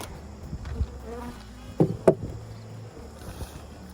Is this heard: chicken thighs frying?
no